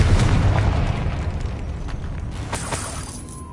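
A Confringo spell explosion in Hogwarts Legacy, a loud booming blast at the start that rumbles and slowly fades, with a few sharper bursts near the end.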